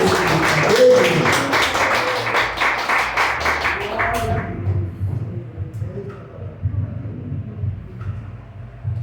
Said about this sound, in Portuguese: vamos receber ele com uma grande salva de palmas para o nosso Senhor e Salvador